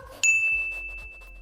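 A bright notification bell ding rings out once, clear and close, its pure tone sustaining and slowly fading over a soft low background, with no talking.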